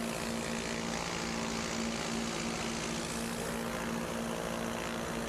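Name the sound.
propeller airplanes racing at an air race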